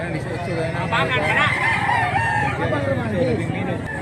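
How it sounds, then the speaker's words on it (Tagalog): A rooster crows nearby over a noisy background, with people talking and other birds faintly audible. "Guwapo kay manok si Boss Idol."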